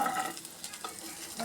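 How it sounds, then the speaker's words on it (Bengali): Green chilies frying in hot oil in a home kitchen, giving a steady, close sizzle with scraping stirring strokes throughout and no voices. "এখন তেলের ভিতরে কাঁচামরিচ এগুলো দিয়ে দেব।"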